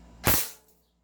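An airsoft pistol upgraded to about 502 FPS fires a single sharp, loud shot that cracks and then fades quickly, with no talk around it.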